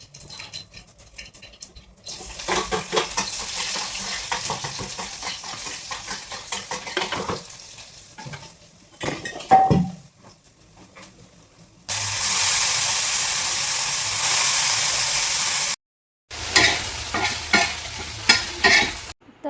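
Cluster beans tipped into hot tempering oil in a home village kitchen sizzle and crackle loudly, with stirring and spoon-on-pan scrapes, bursts of steady hiss broken by short pauses and clatter; no one speaks.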